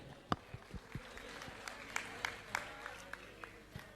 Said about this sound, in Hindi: ताली बजाकर इनका सम्मान करें।